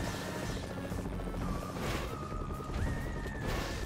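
Helicopter in the game Tempo the Badass Elephant, a constant droning rotor churn held under loud, busy game music and effects for several seconds.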